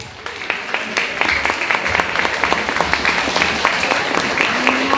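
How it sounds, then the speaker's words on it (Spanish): A book-fair audience bursts into loud, continuous applause, a dense wash of many hands clapping steadily, with a faint crowd murmur beneath. "Fuertes aplausos."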